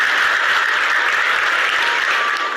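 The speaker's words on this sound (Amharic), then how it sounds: "አጨብጭቡና ገለጹ።" A church audience at a talk bursts into sustained applause: loud, dense clapping from many hands that holds steady throughout and slightly thins toward the end, with no speech over it.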